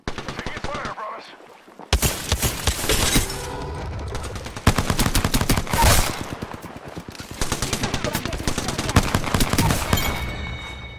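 Apex Legends gunfire, rapid bursts of automatic shots crackling in dense repeated volleys across most of the clip, loud and close, with brief pauses between strings of fire.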